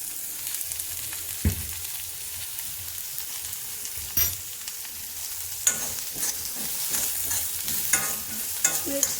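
Onions with a pinch of salt browning in a hot iron kadhai, stirred with a steady sizzle and occasional sharp scrapes and knocks of a spatula against the metal, close and continuous with no voices.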